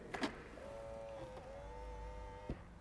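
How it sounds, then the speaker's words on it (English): A Land Rover Defender locking from the door-handle button: a soft click, then a steady mechanical whine lasting about two seconds and ending in a sharp clunk, heard close with no talking. "When you leave the car, press the button to secure the vehicle"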